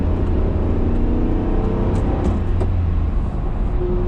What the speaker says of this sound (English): Merging onto the highway here.